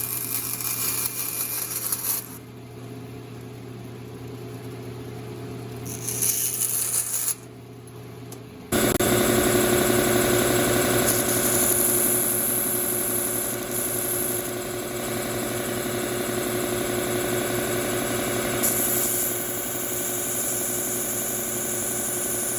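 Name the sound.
bandsaw cutting ukulele end wedge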